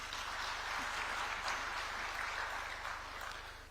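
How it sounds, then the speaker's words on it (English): A conference audience applauds in a sustained, even burst of many clapping hands, with a steady low electrical hum running underneath. "Kenya deserves a round of applause there"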